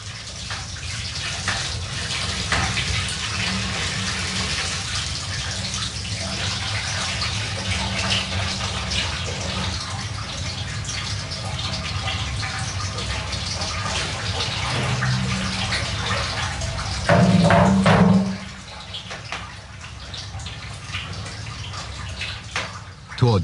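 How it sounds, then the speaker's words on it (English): A large cauldron in a traditional heathland apiary is refilled with water after wax pressing, giving a steady gushing, splashing pour that runs continuously at close range and swells into a louder burst near the end. "After every pressing, the big cauldron is refilled."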